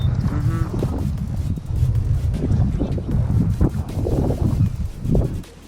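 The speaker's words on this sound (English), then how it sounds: "So, it wasn't windy until just now." Strong gusting wind buffets the microphone on a boat during a bass fishing trip, loud broadband rumble that rises and falls in surges throughout, with faint speech mixed in.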